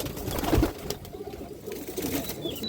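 Pigeon cooing from a natural red-geared Bengali loft pigeon, low soft coos over a faint rustling background, fairly close with no talk.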